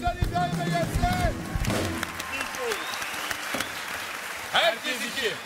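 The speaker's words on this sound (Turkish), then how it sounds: "Alkışlar İbrahim'e gelsin." Applause and cheering from a group for İbrahim, a broad rushing clatter over the first couple of seconds that thins out, with voices talking and a brief burst of noise near the end.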